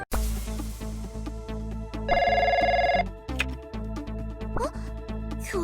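An in-game extension telephone from the Trickcal video game rings once in a bright, buzzing trill lasting about a second, set against steady looping background music.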